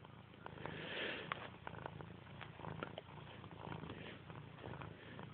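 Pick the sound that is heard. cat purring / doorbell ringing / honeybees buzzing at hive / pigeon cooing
cat purring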